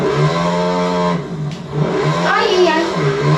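A motocross motorbike engine in a video game whines with sustained harmonic tones that sag and dip as it loses power, then climbs again, loud and close.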